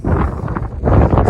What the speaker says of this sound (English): Less wind.